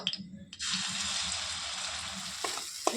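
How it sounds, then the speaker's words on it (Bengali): Ginger garlic paste drops into hot oil in a wok and erupts into a loud, continuous close sizzle that holds steady, with a few brief utensil knocks at the start and near the end. "আদা রসুনটা একটু ভালো করে লাল করে ভেজে নিতে হবে যাতে রসুনের গন্ধটা চলে যায়"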